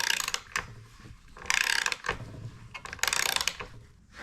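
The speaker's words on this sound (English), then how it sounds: "using a ratchet is way easier with an Allen wrench fitting" A ratchet wrench fitted with an Allen bit turns a bolt during a cabin countertop and cabinet build, giving several bursts of rapid clicking with short pauses between, close and fairly loud.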